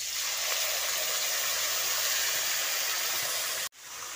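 A tomato, ginger and green chili paste hits hot spiced oil in a Bengali cauliflower and lentil dish, giving a steady, loud, even hiss of sizzling that cuts off abruptly near the end.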